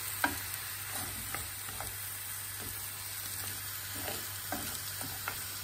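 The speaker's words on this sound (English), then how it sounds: "I'm just gonna let this cook down" Zucchini and spinach with garlic cook down in a pan, giving a faint steady sizzle with soft occasional stirring clicks and scrapes, no talking.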